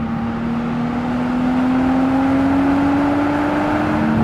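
An older sports car engine revs high with a steady, rising whine and wail that holds loud and continuous throughout the pull, with no talking.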